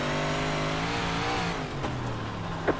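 S2 358 modified stock cars race at Weedsport Speedway, their engines roaring loud and close in a sustained pack as they pass. The pitch falls slightly as the cars move away.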